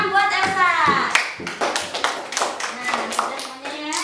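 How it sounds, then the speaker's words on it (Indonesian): Classroom applause for a pupil named Elsa, a group of children clapping in a quick uneven patter, close and bright, with children's voices chattering and calling over the claps throughout. "Tepuk tangan buat Elsa"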